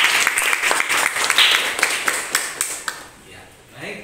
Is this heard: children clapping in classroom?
yes